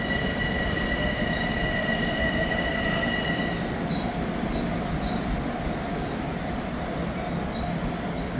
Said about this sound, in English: There goes a train to Long Branch made up of